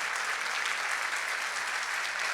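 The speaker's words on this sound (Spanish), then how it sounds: "Un aplauso aquí a China Zorrilla, a Juan Manuel Tenuta, a Julio de Gracia" Steady, dense applause from a large audience at an Argentine film tribute, sustained at an even level for a couple of seconds.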